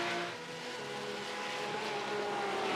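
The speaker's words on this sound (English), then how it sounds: "the gorgeous sonorous sounds in the forest of the flat 6 Porsche engine being tortured by Claudius Veed and Martin Ascher" A Porsche flat-six engine roars in a racing video game during an endurance race at the Nürburgring, a steady sustained drone held high and strained, moderately loud with no voice over it.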